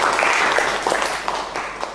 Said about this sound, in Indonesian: beri aplaus ya buat teman kalian